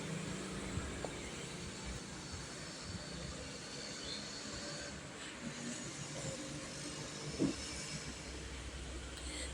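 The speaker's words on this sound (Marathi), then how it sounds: "कांदा चांगला परतवून घेऊया" Chopped onion sautéing in a pan for Maharashtrian-style green bean (farasbi) bhaji, giving a steady, even sizzling hiss throughout with no talking.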